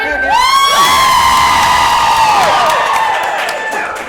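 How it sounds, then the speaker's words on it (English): A conference audience yells together, loud and sustained, a long rising whoop of many voices at a fiction-writing panel that fades after about four seconds. "We should all yell really loud"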